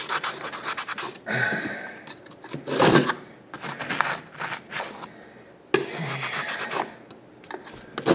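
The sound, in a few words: sawing off expanding foam with a steak knife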